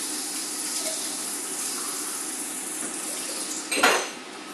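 A lid set onto a pot of rava upma cooking on the stove, a brief metallic clank near the end after a stretch of low, steady kitchen noise, close and without speech.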